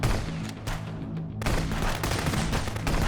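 Gunfire from the police video game Contraband Police: dense, continuous rapid bursts of shots with a brief lull partway, loud and close throughout, with no talking.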